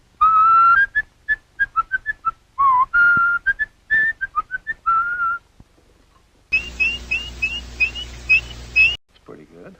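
An animatronic robin from Mary Poppins whistles a run of short, bright chirping notes in quick bursts, pauses, then delivers a longer sustained warbling passage, clear and close with no talking.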